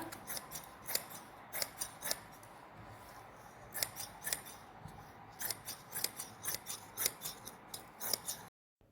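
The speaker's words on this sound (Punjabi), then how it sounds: "ਮੈਂ ਕਟਿੰਗ ਕਰਦੀ ਆ ਜੀ ਜਿਵੇਂ ਜਿਵੇਂ ਨਿਸ਼ਾਨੀ ਲੱਗੀ ਆ ਇਸ ਤਰ੍ਹਾਂ ਕਟਿੰਗ ਕਰਕੇ" Scissors snip through salwar fabric along marked lines, giving a close, quiet run of crisp cuts in a fairly steady rhythm that quickens toward the end before a sudden stop.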